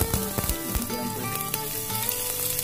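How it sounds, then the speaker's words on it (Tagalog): Garlic and onion sizzle steadily in a small amount of hot cooking oil, a continuous close crackling fry with light popping throughout. "Tapos igisa na natin yung ating bawang tsaka sibuyas."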